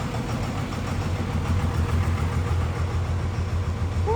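A diesel truck engine with a VP44 injection pump, stage 2 tuned, runs on a dyno and winds down from a hard pull, giving a steady low rumbling drone with no talk over it.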